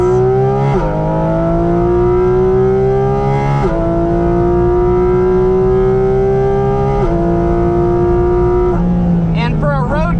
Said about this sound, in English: Those intakes feeding into the cabin, the most intoxicating induction noise in the world